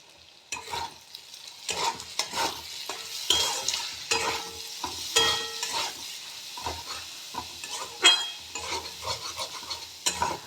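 Ingredients for mixed rice frying in a pan while being stirred, with repeated scraping strokes of a spatula and occasional light utensil clinks over a soft, continuous sizzle.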